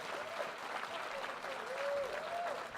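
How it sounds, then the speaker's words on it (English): Audience applause fills a hall during a hall of fame induction ceremony, a steady, dense wash of clapping throughout with a faint tonal voice or whistle sliding over it. "A nice round of applause."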